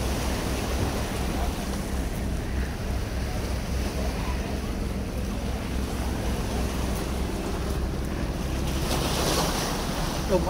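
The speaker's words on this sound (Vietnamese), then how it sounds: "Ở đây là cửa biển." Steady surf rushes and breaks at a river mouth opening onto the sea at Phan Rí Cửa, Tuy Phong, with continuous wind buffeting the microphone for ten seconds and a louder wave surge near the end.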